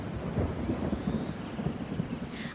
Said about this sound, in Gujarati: એક દિવસ જંગલમાં જોરદાર વરસાદ પડી રહ્યો હતો.